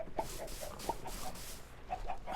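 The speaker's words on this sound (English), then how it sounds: "you can hear the chickens" Chickens clucking in a video game, a quiet run of short, repeated clucks with a soft low hum beneath, faint and at some distance.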